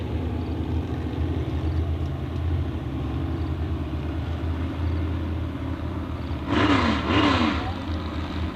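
Race cars accelerate at a speedway as a race goes back to green, a broad, steady engine roar and rumble that swells briefly near the end, with a faint voice or tonal sound riding over it.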